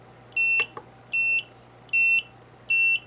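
Four short, evenly spaced high-pitched electronic beeps from a Wizard X220 racing drone's SPRacing F3 flight controller, clear, with quiet gaps in between.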